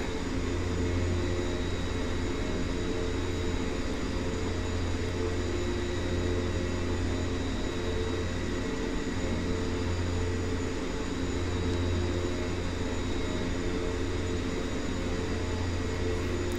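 Both engines of a Twin Otter in the X-Plane 11 flight simulator drone steadily and evenly throughout, a constant loud cabin hum with a faint whine on top and no talking.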